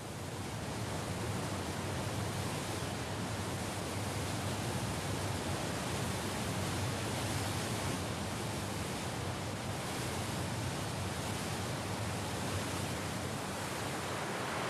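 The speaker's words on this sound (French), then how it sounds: "Le débit du torrent, charriant sable et gravier," A mountain torrent carrying sand and gravel rushes in a dense, unbroken roar of water, loud and steady throughout, with no voices.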